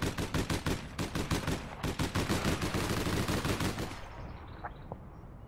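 Rapid bursts of automatic gunfire from the online shooter APB Reloaded, a dense rattling stream of close, loud shots for about four seconds before cutting off into quieter scattered sounds.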